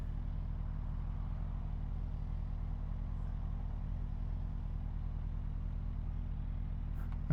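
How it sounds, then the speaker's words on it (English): A 2022 Suzuki Hayabusa motorcycle on the road: a dense, steady low engine drone that holds an even level throughout, heard close from the rider's position, with no talking. "This is where I'm going to end the video with a one last acceleration pull."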